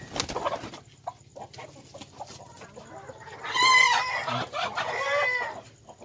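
Hen brooding on eggs on a Filipino farm, giving a string of clucks and squawking cackles, louder bursts in the middle and later, with rooster-like calls and other fowl and outdoor background around.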